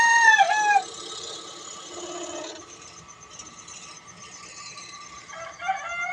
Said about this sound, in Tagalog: Kaya dinig na dinig ang mga tilaok ng manok.